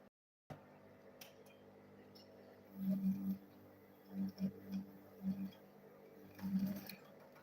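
A sewing machine stitching fabric in several short runs, its low motor hum pulsing on and off against a quiet room, faint and nearby with no voices.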